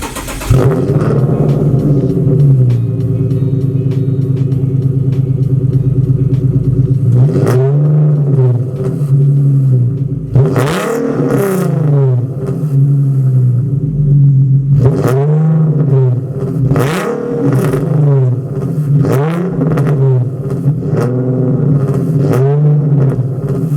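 A Nissan 370Z fitted with a cold air intake idles loudly, then revs repeatedly in sharp bursts, its engine note climbing and falling back to idle between blips, close up with no talking.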